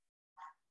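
A pet dog gives a single short, sharp bark or yip indoors during a meeting, fairly faint and close, preceded by near silence.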